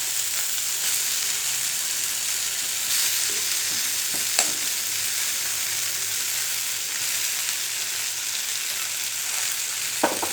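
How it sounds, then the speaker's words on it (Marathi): Ground spices frying in already-oiled kadai oil for a traditional Maharashtrian black-masala eggplant dish, a steady loud sizzle and hiss throughout with a couple of brief stirring clinks, no voices. "आता ह्याच कढईत मला ह्याच तेलामध्ये हे मसाले फ्राय करून घ्यायचे."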